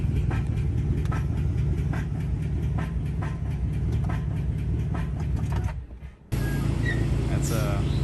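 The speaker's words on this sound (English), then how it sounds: "Do y'all hear that? I think I just dropped the lifter." A Chevrolet Trail Boss truck engine runs close and loud with a dropped lifter, a steady rumbling idle with a repetitive ticking knock, briefly cutting out near the end before resuming.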